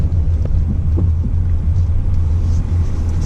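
A 2019 Subaru Crosstrek rolls slowly down a narrow dirt path, a low continuous engine and tyre rumble steady throughout, with faint bumps and wind noise.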